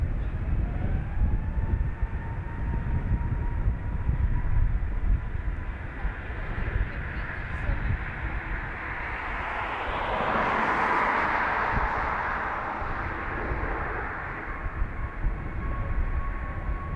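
Aer Lingus jet taking off from runway 28 right at Dublin Airport, a steady broadband engine roar that swells to a peak mid-way with a rising whine, then holds as the aircraft climbs away, no talk.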